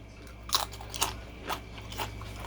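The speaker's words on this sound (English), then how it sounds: "Let me see if you can hear the crunch." Four crisp crunches spaced about half a second apart, each a sharp bite into crunchy plantain chips, close up over a low steady hum.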